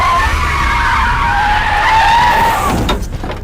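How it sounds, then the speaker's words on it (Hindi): A car brakes hard, its tyres skidding in a loud, sustained screech for about three seconds before cutting off, with no talk over it. "गाड़ी को ब्रेक मारा क्या?"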